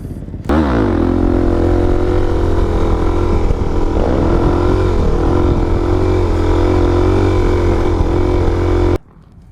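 Motorcycles revving hard at a local riding spot where riders pull wheelies, a loud, sustained engine roar with rising and falling pitch that runs unbroken from start to near the end, then cuts off.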